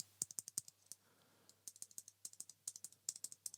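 Clicky switches on a Nuphy AIR75 low-profile mechanical keyboard clatter in quick bursts of sharp keystrokes, a brief pause breaking the run before steady typing resumes, quiet and close with no talking.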